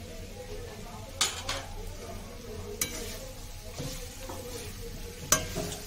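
Chalta pickle being stirred in a pan with turmeric and salt, a low steady sizzle broken by a few sharp spoon knocks against the metal.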